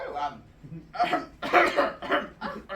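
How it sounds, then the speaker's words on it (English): A short series of coughs, four or five close bursts in quick succession, fairly near and moderately loud, on stage during a community theater play. "Don't cough"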